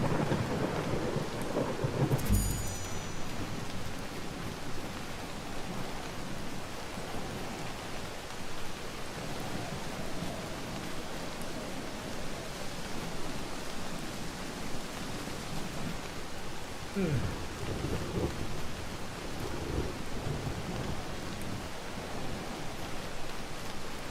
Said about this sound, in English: So I'm gonna turn the storm on.